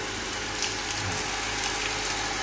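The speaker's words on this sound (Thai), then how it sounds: "ำไหลออกจากเครื่องกรองอาโอสดๆนะครับ" Water runs from the stainless-steel test tap of a 12,000-litre-per-day RO drinking-water filter at about 9 litres per minute, a steady, faint hiss of flow that continues evenly without speech.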